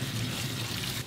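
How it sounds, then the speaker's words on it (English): Canned chickpeas and artichokes being rinsed and drained, water pouring and trickling steadily through them for about a second at close range, alone without talk. "we're just gonna rinse and drain our chickpeas and our artichokes"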